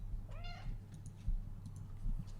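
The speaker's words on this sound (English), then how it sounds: "Kitty's on the warpath" A cat lets out a single short, rising meow close by over a low steady hum, followed by faint clicks and small rustles.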